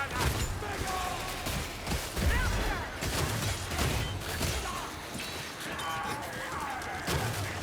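Ratling gunner fire rattles through the game Vermintide 2 as a dense, continuous volley of rapid shots and crashes, loud and sustained, mixed with shouting voices.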